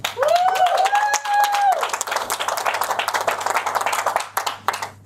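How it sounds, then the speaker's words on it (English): An audience at a keynote talk claps steadily for several seconds, many hands at once, with a few whoops and a high-pitched cheer rising over the applause near the start. "So, round of applause please for Mike."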